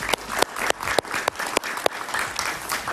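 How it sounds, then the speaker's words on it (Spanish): A studio audience applauds a newly introduced guest on a Spanish-language talk show, dense steady clapping close and loud with a few sharper individual claps punctuating it. "Un aplauso para él,"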